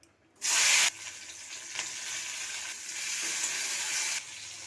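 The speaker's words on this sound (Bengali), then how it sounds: "তেলটা গরম হয়ে গেছে, আমি সব সবজিটাকে ভেজে নেবো।" Vegetables drop into hot white oil in a wok and set off a loud sudden sizzle, which settles into a steady, close frying hiss with faint stirring scrapes.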